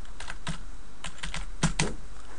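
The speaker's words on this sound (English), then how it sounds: "we're going to type in normalized" Fingers type on a computer keyboard while text is entered into an Excel spreadsheet, giving a close, clear run of irregular key clicks in short bursts with a few louder strokes.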